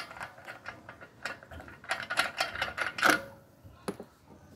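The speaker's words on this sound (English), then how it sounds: "Remove the top bolt." A bolt removal tool from a car's trunk toolkit loosens a wheel bolt on an Audi A6 3.2, giving faint, close ratcheting clicks and metallic rattles in short irregular bursts, with no talking.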